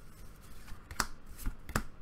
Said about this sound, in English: I do the four over the top, and then I shuffle them in behind the next two.